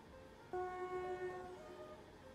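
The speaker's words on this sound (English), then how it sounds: "What's the horn like?" A train horn sounds in the railway game Whitecoast City Railway. It is one clear, steady tonal blast that starts abruptly about half a second in, holds for roughly a second, then fades under a low rumble, with no talking.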